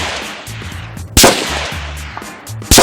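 Rifle fitted with a Holosun red dot fired at a 50-yard target, two loud sharp shots about a second and a half apart, with a low rumbling background between them.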